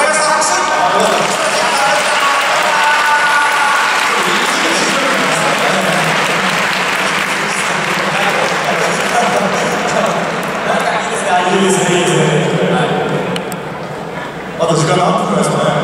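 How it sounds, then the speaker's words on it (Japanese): Crowd applause at a football match between former Consadole players and a Muroran U-15 youth side, loud sustained clapping filling the whole stretch and easing slightly near the end before swelling again, with voices mixed in. "拍手。"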